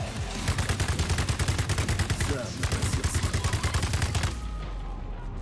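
Rapid gunfire in the video game Atomic Heart, with a long run of closely spaced, punchy shots that stops abruptly near the end. A shotgun is the weapon in hand.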